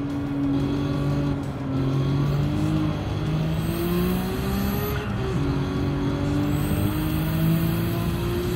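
Race car in Gran Turismo 7 with a working turbocharger, a loud, close engine holding a steady drone with rising and falling pitch sweeps as it shifts and revs.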